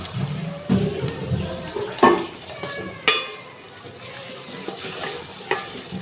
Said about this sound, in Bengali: তো এটাকে আমি ভালো করে কষিয়ে নিব।